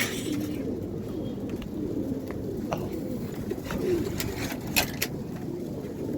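Pigeons coo softly and repeatedly in a loft, their low rolling calls layered over faint background noise with a few sharp clicks and rustles.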